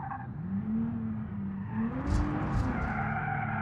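Car speeding through a village during a chase, its engine whining steadily as it accelerates with bursts of tire noise and skidding, heard from nearby without talking.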